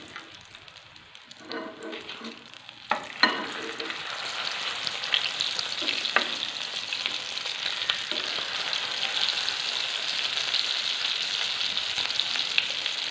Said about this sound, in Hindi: कोशिश करें कि चम्मच की मदद से घी जो है ना वो कबाब के ऊपर डाल दें ताकि अंडा ऊपर से पक जाए।